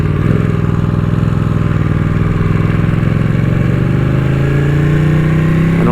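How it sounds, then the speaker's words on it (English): Quick motorcycle ridden at speed on a warm day, a loud close engine drone rising in pitch with heavy wind roar, no talking. "this is a quick bike"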